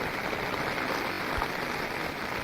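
Steady rain falls outdoors as a constant, even hiss, moderately close and unbroken, with no voices.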